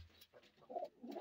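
Pigeons, mostly white fancy birds and one brown-and-white, give soft, faint coos in short low murmuring phrases.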